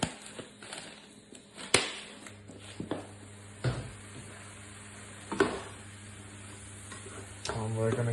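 A spoon stirs meat sauce seasoned with curry powder in a hot pan, scraping and clinking at irregular moments over a low, steady sizzle.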